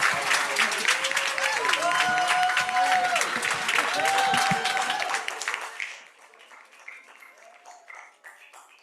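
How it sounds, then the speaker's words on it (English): An audience applauds at a school design presentation in New York City. Loud, full clapping with some crowd voices and cheering runs for about six seconds, then drops to faint scattered claps. "Let's give a round of applause."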